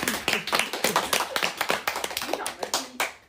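A clapping sound effect in a livestream: a quick, fairly steady run of close, crisp hand claps lasting a few seconds, with voices mixed in.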